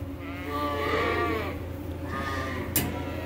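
Sheep and lambs bleating on a spring farm, a drawn-out wavering bleat followed by another fainter call and a short sharp knock, over steady outdoor background noise.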